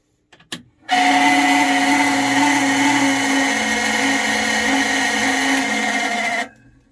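The engine of a 1967 International 1200 truck cranks without catching after a winter in Alaska, a loud, steady whirring grind lasting about five seconds after a sharp click, then cutting off.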